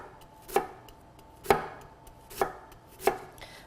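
A kitchen knife cuts thin slices of fennel on a cutting board. Four crisp, separate chops land at an even, unhurried pace, close and clear against a quiet background.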